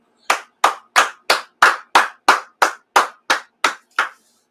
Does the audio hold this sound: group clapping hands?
yes